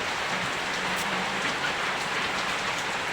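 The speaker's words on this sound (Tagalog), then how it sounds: "Malakas ang ulan." Heavy rain falling steadily, a dense, even hiss of drops on surfaces that stays constant and fairly soft throughout, with no talking.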